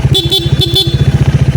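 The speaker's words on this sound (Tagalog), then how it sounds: "Stock horn," A Honda ADV 160 motorcycle's stock horn beeps in four quick short toots over a steadily idling engine.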